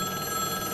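A telephone rings in the video game The Flight, a short burst of steady electronic bell tone heard on its own at moderate loudness.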